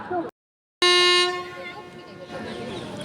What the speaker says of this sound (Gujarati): હુંકિંગે આપી દીધું છે આપણે ટ્રેને, ઓખા સોમનાથવાળી ટ્રેને